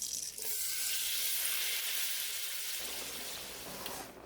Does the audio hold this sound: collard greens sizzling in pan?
yes